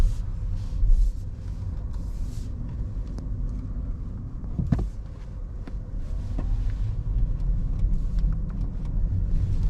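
A Renault Austral hybrid pulls out of a garage at night, a low steady rumble heard from inside the cabin with a few faint clicks and knocks, no voices.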